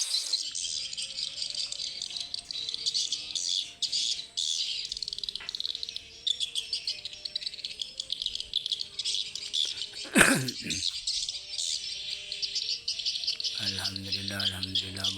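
Swiftlets flock into their roost at dusk, a dense, continuous high-pitched chattering of many birds throughout, with a brief louder rustle midway and a low voice near the end.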